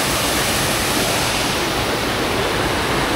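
A waterfall along the trail to Tagupak Falls produces a steady, loud, broadband rushing roar that fills the whole stretch without pause, heard close with no voices over it.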